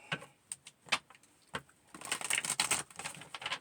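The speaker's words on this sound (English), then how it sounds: "Two more shuffles." Tarot cards riffle and flick in quick irregular bursts, with a denser, louder stretch of shuffling in the second half; close and fairly quiet.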